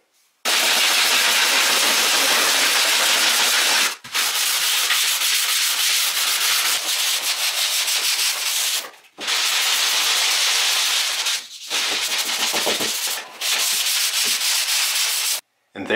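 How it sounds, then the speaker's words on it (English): Drywall in a bathroom is sanded with a loud powered sander, long steady rasping runs broken by several short pauses as the tool stops and restarts, close to the microphone with no talking. "It's one of the worst things about sanding up drywall"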